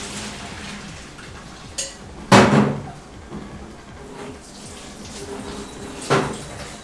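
Cooked cabbage being drained into a colander in a kitchen, with a few sudden splashing gushes of water and clanks of a pot between quieter stretches.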